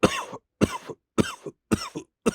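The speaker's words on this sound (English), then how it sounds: "more coughing" A person coughs five times in a row, each short burst separated by a brief silence, close and fairly loud, with no other sound between the coughs.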